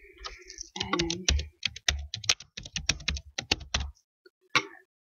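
Rapid clacking keystrokes on a computer keyboard while entering text into an image-editing program, close and crisp, coming in quick bursts and then trailing off into a few isolated taps.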